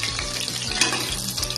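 Onions, chillies and other ingredients for a mushroom biryani sizzle and crackle steadily in hot oil in a pan, a close, continuous frying hiss with light stirring.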